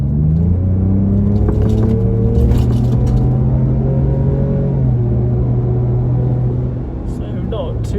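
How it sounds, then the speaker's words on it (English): Ford Ranger Raptor pickup with a 3-litre engine revving in sports mode, heard from inside the cab as a steady loud drone that eases off near the end, with talk over it. "I think this 3-litre engine suits this vehicle so well"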